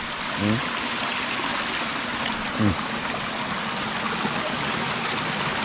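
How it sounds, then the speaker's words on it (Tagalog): Steady rushing of spring-fed stream water flowing over rocks at a farm resort in Carmen, Cebu, continuous and close, with two short voice-like bursts standing out briefly above the flow. "Ayun ang tubig."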